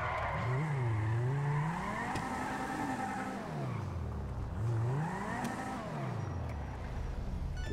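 A car resembling a BMW drives in GTA 5 Online, its engine pitch rising and falling in repeated sweeps as it accelerates and slows. Tire noise and possible skidding run under the engine, steady and fairly close throughout.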